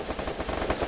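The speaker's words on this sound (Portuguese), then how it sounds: "Um tiro." A rapid burst of video game gunfire, many shots packed into under a second, loud and punchy.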